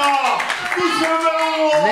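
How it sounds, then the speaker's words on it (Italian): Applause for a departing guest at an Italian lunch gathering, a short burst of clapping mixed with voices and chatter throughout, fairly loud and close. "facciamo un bel applauso a Domenico, perché non lo rivedremo più"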